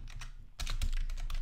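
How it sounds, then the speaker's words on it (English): Typing on a computer keyboard: a brief run of close, quiet key clicks, with a short pause and then denser tapping toward the end. "You then simply type YouTube channel"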